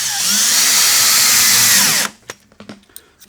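A power drill drives screws into equalizer slides on a five-legged standard table, one loud continuous whir for about two seconds that winds down and stops, followed by a few light clicks and knocks.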